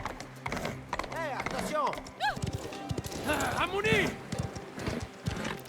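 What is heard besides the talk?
horse hooves galloping in Mafia video game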